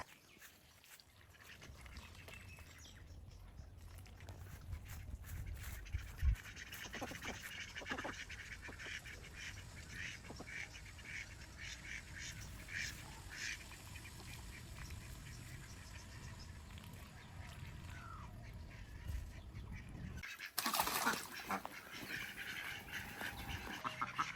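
Domestic ducks quack in scattered, uneven bursts near a homemade duck bathtub, the calls rising over a steady outdoor background hum with no one talking.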